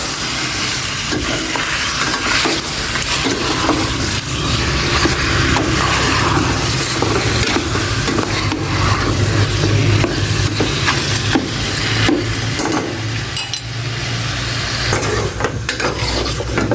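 Food sizzles and crackles steadily in a hot pan, with a utensil stirring and scraping against the metal throughout.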